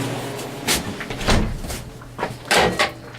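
A homemade walk-in cooler door being closed, giving several close, dull thuds and knocks spaced over a few seconds with a faint hum underneath.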